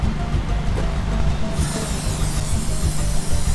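3-IN-ONE aerosol lubricant is sprayed onto the slide-out track of an RV. A continuous, close hissing spray runs for several seconds, loud and steady against outdoor background noise.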